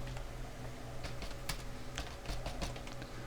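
A computer keyboard is typed on up close, giving irregular clusters of crisp key taps over a steady low hum, with no talk.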